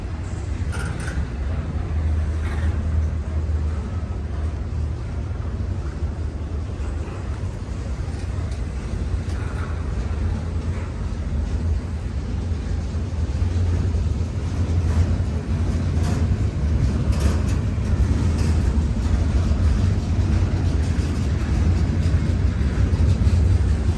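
A steady, loud rumble of a GO train pulling away from a station, growing slightly louder over time with faint squeals and clanks, no voices.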